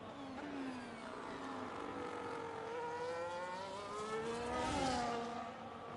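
An F1 car in the F1 25 racing game at the Dutch Grand Prix, its engine whining as the throttle is blipped, pitch sliding up and down in several sweeps, moderately quiet and steady throughout.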